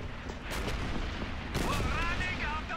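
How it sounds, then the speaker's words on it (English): Gunfire in the video game Call of Duty 3, loud continuous booming shots in dense bursts that fill the whole clip, with a voice speaking briefly near the end. "I'm firing non-stop"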